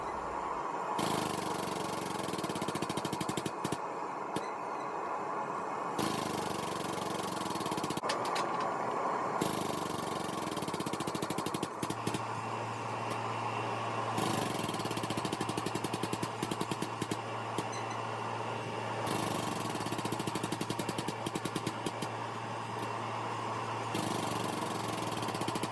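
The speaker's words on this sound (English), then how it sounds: "I use a hydraulic press that I've made to be able to stretch out the metal and save my arms a lot of work" A homemade hydraulic press stretches a forge-welded Damascus steel billet, its motor droning steadily throughout with pump changes and pauses in the tone, loud and close with no talking.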